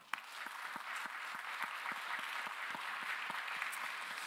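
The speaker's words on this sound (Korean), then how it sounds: "우리 박수로 환영합니다" A church youth congregation claps in welcome, a soft, fairly distant patter of many hands with a few distinct louder claps keeping a loose steady rhythm throughout.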